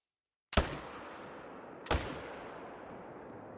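Two loud rifle shots ring out in a whitetail deer hunting game, each a sharp crack followed by a long rolling echo, the second about 1.4 seconds after the first, with silence before.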